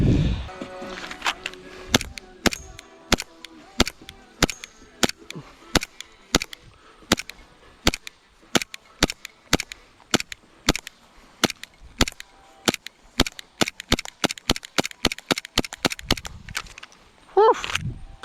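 Airsoft gun fired repeatedly during a solo shooting drill while walking backwards, sharp close snapping shots in a steady irregular series across the whole stretch, with no talk.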